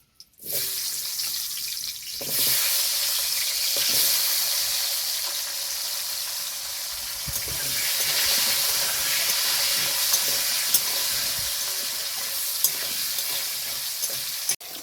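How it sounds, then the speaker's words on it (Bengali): Potatoes fry in hot oil seasoned with salt and turmeric, a steady broad sizzle that swells after a short quiet start, with a few faint clicks and scrapes of a utensil. "এখন আমি আলুটাকে ভেজে নেব।"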